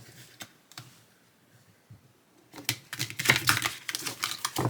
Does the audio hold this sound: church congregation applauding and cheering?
no